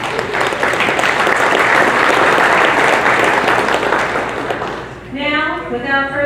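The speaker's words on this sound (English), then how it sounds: "Let's give those people a round of applause." An audience at the 2022 Corvette Hall of Fame inductee announcement gives a loud, sustained round of applause that fades near the end as a voice begins talking.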